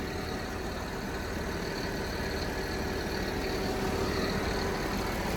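A quiet V8 engine idles at a steady, even rumble, close by and unchanging throughout, with no talking.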